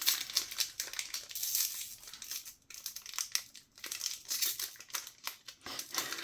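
Hands tearing open a cardboard Disney Lorcana card pack, with close, loud crinkling and ripping in rapid bursts and brief pauses that go on without a break.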